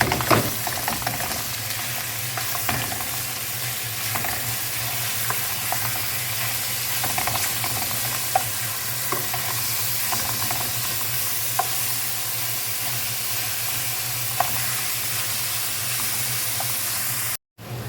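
Garlic and ground beef frying in a pan for Arabic lasagna, a steady, close sizzle that holds at an even level throughout with faint scraping stirs and no talking.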